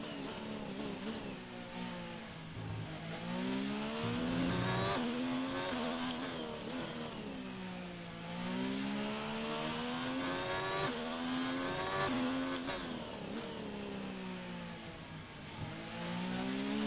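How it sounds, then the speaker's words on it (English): Formula 1 race car engine at the US Grand Prix, loud and close, revving hard through repeated rising sweeps as it accelerates and shifts gears, with brief dips between pulls. "just see how sound plays a part of a F1 car"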